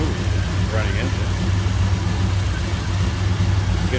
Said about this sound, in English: Smooth running engine.